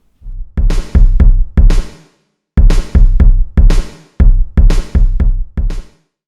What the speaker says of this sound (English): A drum sounds like this.